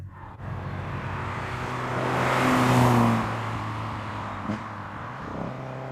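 A Fiat Strada 130 TC Abarth engine with Solex carburettors revs while driving, its buzzy exhaust note climbing, peaking loudly mid-clip, then easing back to a steady drone inside the car.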